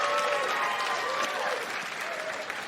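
A large comedy-club audience applauds, a dense, steady wash of clapping that fades slightly toward the end, with no talk over it.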